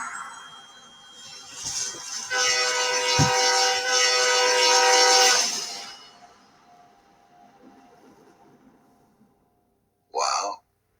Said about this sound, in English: The train that hit him was the 6:33 train.